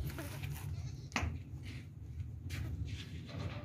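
A goat bleats near the listener at a livestock sale, giving one sharp cry and then a second, fainter bleat over a steady low background rumble.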